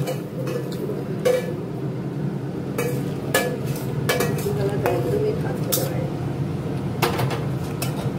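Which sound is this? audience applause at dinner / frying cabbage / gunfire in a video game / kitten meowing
frying cabbage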